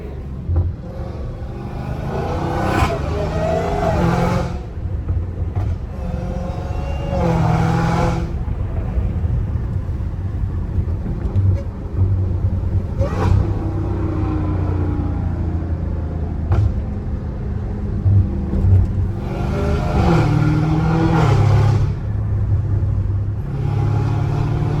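Dodge Hellcat Redeye with a supercharged V8 barking through repeated hard revs and pulls on city streets, deep rumbling bursts rising and falling about every few seconds, loud and close.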